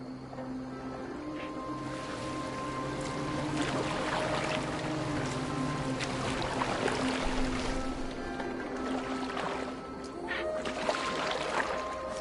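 Boat moving on water in Assassin's Creed Valhalla: a constant wash of water and creaking hull under a low hum, steady and close, with soft splashes and faint background voices.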